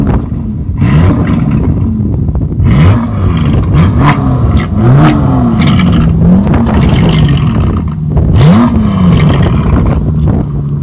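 Aston Martin DB11 engine revved hard in repeated bursts, the exhaust note rising and falling through several loud, close blips over a steady idle rumble, with no talk over it.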